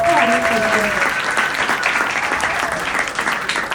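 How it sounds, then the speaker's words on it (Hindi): A talk show audience claps loudly to welcome a guest, a dense burst of applause that starts strong and gradually thins, with a voice heard faintly beneath. "जोर से ताली बजा के उनका स्वागत करते हैं"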